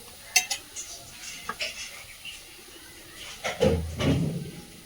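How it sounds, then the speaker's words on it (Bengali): A wok (kadai) handled and set onto a wood-fired stove, with light metallic clinks and taps followed by a louder scraping clunk and a short hiss as it settles. "কড়াই নিয়ে আসি, কড়াই চাপিয়ে দিলাম।"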